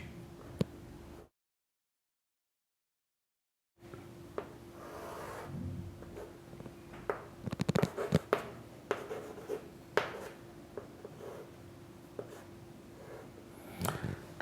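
Marker or chalk drawing a right triangle on a board, with faint scratchy strokes and taps coming in short bursts after a silent gap, quiet and close.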